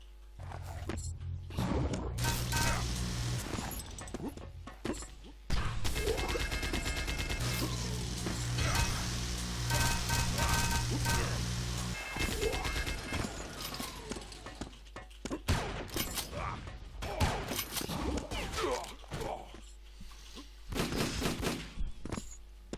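Repeated gunfire, including shotgun blasts, in the multiplayer shooter Doombringer during a league finals match, with scattered loud shots and bursts among mechanical clatter and footsteps across a long busy stretch.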